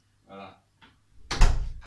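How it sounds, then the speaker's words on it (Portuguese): A house door swings open for a cat, a single loud clunk and rattle that follows a brief spoken phrase, heard up close in a quiet room. "Abri aqui a porta à gata."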